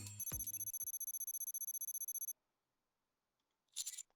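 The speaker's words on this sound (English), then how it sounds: "As the phone blares out a frantic ringtone, the screen turns on." Rapid electronic phone ringtone from the video game Nikke, a fast steady pulsing ring lasting about two seconds and then cutting off, with a short burst of noise near the end.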